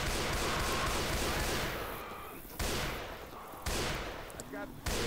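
In Left 4 Dead 2, sniper rifle shots ring out in several loud, sharp cracks spaced a second or so apart, each with a decaying echo, over dense background game noise.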